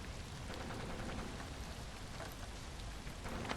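Steady heavy rain pouring in a horror video game, a dense hiss of drops on surfaces without pause and no voices.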